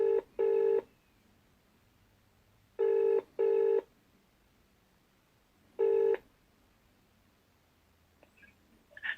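An outgoing phone call to an insurance office rings on the line, with paired ring tones repeating in a regular pattern and quiet gaps between them, followed by a faint click as the line connects.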